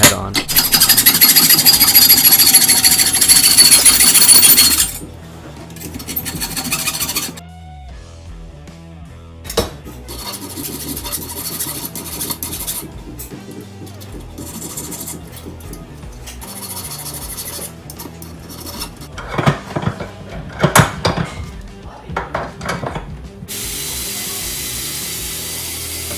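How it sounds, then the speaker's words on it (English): A cheap IKEA wrench has its head cut off, loud sustained high grinding and cutting noise at first, followed by intermittent scraping, metallic clanks and rasping tool sounds, with someone talking in places. "this one was cheap IKEA wrenches, so I'm just going to cut off the head"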